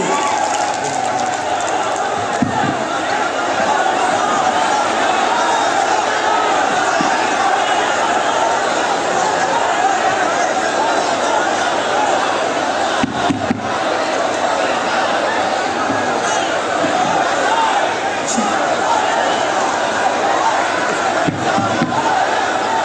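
A large crowd at an election rally addressed by a politician in Saroda, Bhubaneswar, roars and claps in a steady, dense wall of sound, with a loudspeaker voice faintly mixed in.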